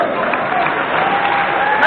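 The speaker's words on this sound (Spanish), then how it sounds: "Un aplauso, venga." Steady, dense applause from a crowd at a youth sports award ceremony in Vigo, a continuous wash of clapping that holds at an even level for the whole couple of seconds.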